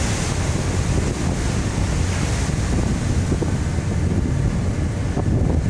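Strong headwind roars steadily across the microphone over the wash of rough sea waves, a constant loud rumble with no pauses.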